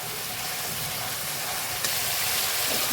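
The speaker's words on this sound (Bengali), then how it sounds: "বেগুন ভেজে যে তেলটা ছিল আমি সেই তেলটাই কিন্তু ফোড়ন দিয়ে মশলা কষাচ্ছি" Spices sizzle and hiss steadily in leftover oil from fried eggplant while a Bengali fish curry with eggplant cooks, a continuous close frying sound with a slight stir near the end.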